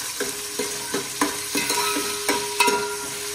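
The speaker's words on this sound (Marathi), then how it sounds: "आता त्याला लाल होईपर्यंत आपण भाजून घेऊ" Onion, tomato and curry leaves fry in a pan for a chicken masala gravy, a close, continuous sizzle broken by rhythmic scraping strokes of a spatula stirring every half second or so, with no speech.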